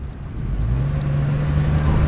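A car drives past on a road, a steady low engine hum and tire rumble gradually swelling in loudness with faint traffic noise around it, no voices.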